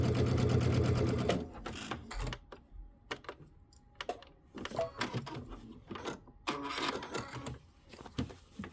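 A sewing machine runs in a fast burst, stitching through thick quilt layers, then gives short intermittent runs and clicks.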